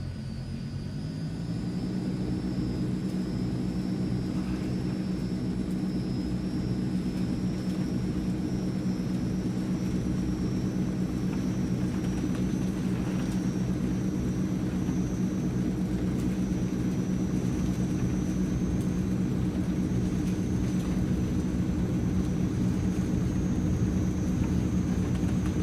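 A Transall C160 military transport in Microsoft Flight Simulator powers up for takeoff, its turboprop engines building to a loud, steady roar that holds throughout with no talk.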